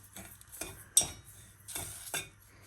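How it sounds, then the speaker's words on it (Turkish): Caramel being stirred in a pot with a spoon, a few scraping strokes against the metal with one sharper clink, close and fairly quiet with no talk. "Tabii ki karamelim yanmasın diye ara ara böyle çeviriyorum"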